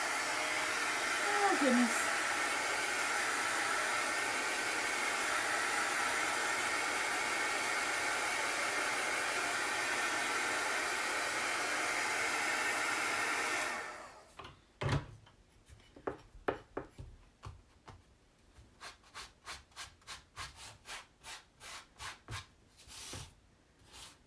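Hair dryer blowing steadily on chalk paste in a craft setting for about fourteen seconds, then cutting off, followed by a string of rhythmic rubbing and scraping sounds and a brief spoken exclamation.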